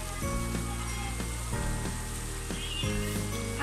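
Fish liver lotpoti fries in hot oil while being stirred, giving a steady, close sizzle and crackle that runs throughout, with a few faint clicks from the pan underneath.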